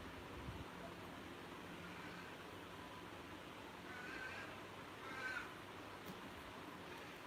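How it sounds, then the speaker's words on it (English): Crows caw faintly and at a distance in an outdoor setting, a few scattered calls rising over steady background noise. "Noisy buggers. Don't encourage the crows because they take over."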